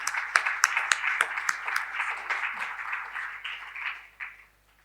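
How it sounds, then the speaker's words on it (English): A seminar audience claps in a room. Sharp individual claps open the applause, which thins out into lighter clapping and fades to near silence by the end. "they really deserve a round of applause"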